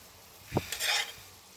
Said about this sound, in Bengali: জলটা ফুটে উঠেছে, আমি এখন মাছটা দিয়ে দেব।